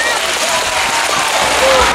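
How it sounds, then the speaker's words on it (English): An audience at a school prize-giving ceremony claps for the guest presenting awards, a dense, loud, continuous wash of applause with no voices over it. "Let's give a round of applause to Madam Jana."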